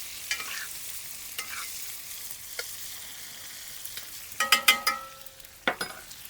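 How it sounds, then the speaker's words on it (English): Steaks bathe steakhouse style in brown butter, a soft, steady sizzle broken by spoon clinks against the pan and a cluster of sharper spattering taps near the end, with no talking. "I'm gonna bathe these steaks, steakhouse style, in this brown butter"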